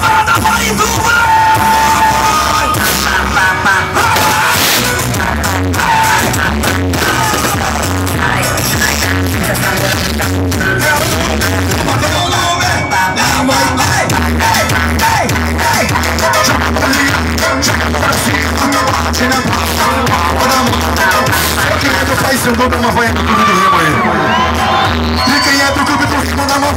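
A crowd yells and cheers at a street carnival bloco in Marituba, a loud, dense, continuous roar of voices with music and bangs throughout.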